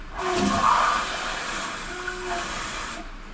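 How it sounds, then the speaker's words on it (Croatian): A measure of water is poured into a cooking pot, giving a hissing, gurgling splash that is strongest near the start and then settles into a softer steady trickle before cutting off. "Sad ja idem da sipam ovu jednu mjericu vode."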